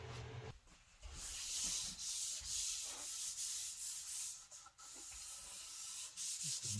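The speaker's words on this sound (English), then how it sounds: "Very light sanding." Soft, steady scratching of 400-grit sandpaper rubbed back and forth across a wood slab in short strokes, close and fairly quiet.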